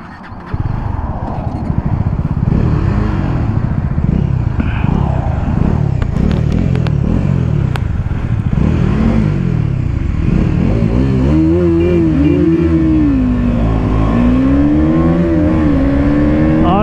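KTM Duke 250 and Bajaj Dominar 250 motorcycles racing at high speed, engines droning loud and steady close to the microphone with wind rush, rising in pitch as one bike revs harder near the end.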